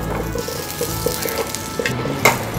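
Cashews and raisins fry in a spoonful of ghee in a hot pan for a halwa, giving a steady close sizzle with a few light clicks of stirring.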